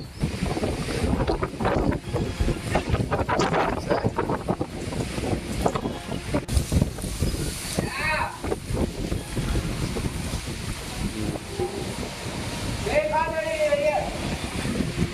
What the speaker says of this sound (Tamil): சென்னை மற்றும் புறநகர் பகுதிகளில் திருவள்ளூர், பூவிருந்தவள்ளி ஆகிய பகுதிகளில் காற்று கடுமையாக இருப்பதை பார்க்க முடிகிறது